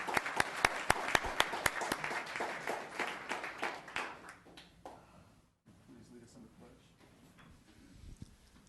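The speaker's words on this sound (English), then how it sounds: "Let's give a round of applause for Bob and Pat Jones." Audience at a town council meeting claps for a couple's 57th anniversary, a sparse, distinct round of claps that dies out within about five seconds, followed by quiet room noise and faint voices.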